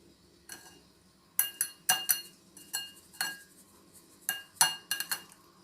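A sieve of sugar held over a bowl gives repeated sharp metallic taps and clinks in irregular bursts, fairly close and clear, with no speech.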